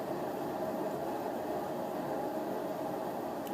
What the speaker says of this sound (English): you can probably hear my washing machine right now.